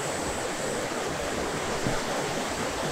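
Waterfall near Seonamsa Temple in Korea, a steady rushing roar of falling water, loud and close, continuous and unbroken for the whole stretch with no voices.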